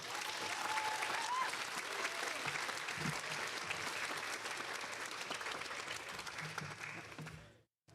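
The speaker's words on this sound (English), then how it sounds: "Please give a round of applause to Ms. Francine Laporte." Applause from the audience at a high school National Honor Society and Hall of Fame ceremony, sustained crowd clapping that stays fairly even and distant before cutting off abruptly at the end.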